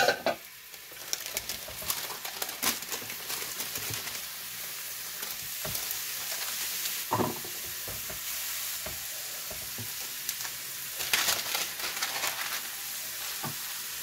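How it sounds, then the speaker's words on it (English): Smashed ground-beef burger patties sizzle steadily in a pan, a constant frying hiss broken by sharp scrapes and taps of a spatula pressing them down, with no talking. "I'm just smashing down these burger patties."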